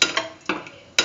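Vermicelli mixed in a pan, giving a few crisp spoon-on-pan clinks and scrapes up close, three main strikes spaced about half a second apart, with quiet between them.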